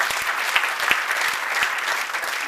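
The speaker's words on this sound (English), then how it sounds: "please give him a round of applause" An audience at a Women's Day celebration applauding, dense steady clapping from many hands that fills the space continuously.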